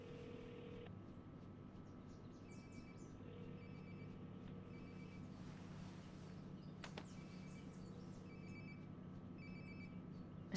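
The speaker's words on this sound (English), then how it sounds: "like my phone is definitely nearby" A phone in Life is Strange: Before the Storm rings in repeated short electronic trill bursts, moderately faint over a steady low ambient hum.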